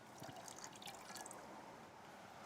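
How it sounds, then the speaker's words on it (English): Dissolved rennet in water is poured into milk for cheesemaking in the Basque Highlands, giving a soft, steady liquid trickle with faint drips, quiet and close, with no voices. "I dissolve it, and now I'm going to put it in the milk."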